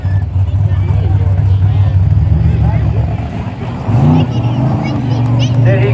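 A Chevy truck engine at wide open throttle roars steadily through a mud pit at an outdoor mud mog event, loud and sustained with a brief dip and surge, while crowd chatter and an announcer's voice carry underneath.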